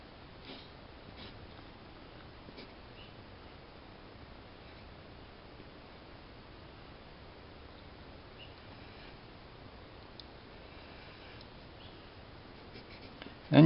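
A marker drawing and filling in letters on paper, faint steady scratchy strokes close by in a quiet room, with a brief louder bump at the very end.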